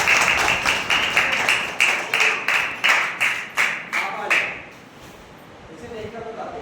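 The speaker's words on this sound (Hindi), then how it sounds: "तालियां मार दो इसके।" A class of children claps together for a classmate, about ten crisp, evenly spaced claps in steady unison. The clapping stops suddenly and faint voices follow.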